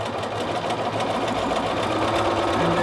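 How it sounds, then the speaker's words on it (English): A sewing machine runs continuously and close up, stitching a welt seam on a knit jacket with a fast, even mechanical whir. "we are back at the sewing machine going to sew this welt seam"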